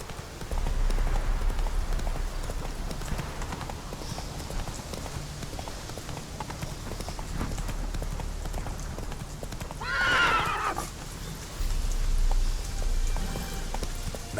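Hooves of Roach, a horse in the open-world game The Witcher 3: Wild Hunt, clip-clop steadily in a quick galloping rhythm throughout, close and fairly loud over soft rain-like ambience, with a brief whinny-like burst near the middle.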